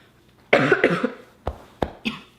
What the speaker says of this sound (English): I never cough. But until this, now I'm coughing.